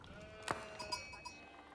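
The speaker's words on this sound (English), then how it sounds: "There's some sheep." Sheep in the strategy game Age of Empires IV give a short, sharp bleat followed by a few fainter bleats and tonal chimes, fairly quiet overall.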